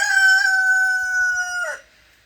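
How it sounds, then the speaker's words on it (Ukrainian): A rooster crows in a farmyard with chickens and goslings, one long sustained call held loud and close before breaking off near the end. "Там гусята, тут курята."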